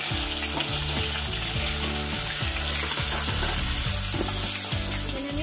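Fish heads frying in a pan of hot oil, a loud continuous sizzle with bubbling crackle and occasional stirring scrapes, close and steady throughout with no talk.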